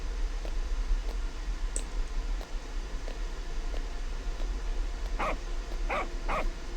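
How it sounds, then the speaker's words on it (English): A puppy barks at people, with a few soft yips scattered early on and then three sharper, louder barks close together near the end, over a low steady hum. "It's this puppy again. It's barking at people."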